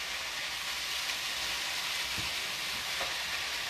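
Steamed bok choy, diced red capsicum and other vegetables land in a hot tofu stir-fry pan, giving a steady, even sizzle and hiss throughout with a few soft knocks, no talking.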